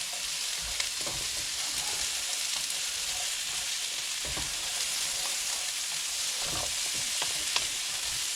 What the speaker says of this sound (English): Give them a good stir in.